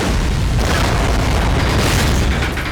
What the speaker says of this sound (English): then there's like a good old train explosion